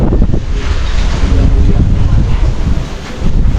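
Strong wind blows across the microphone outdoors, a loud, close, continuous buffeting roar with gusty low-end thumps that dips briefly near the end before surging back.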